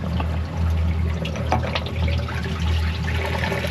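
Old water drains out of a boat's bait well in a steady, gurgling, splashing rush, close and continuous, with low engine or hull rumble underneath.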